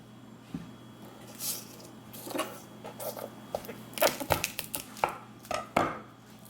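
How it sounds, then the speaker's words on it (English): Garlic cloves are crushed for aioli on a kitchen surface, giving a series of close, sharp knocks and squishing thumps that grow quicker and firmer toward the end. "So we're gonna crush the garlic first."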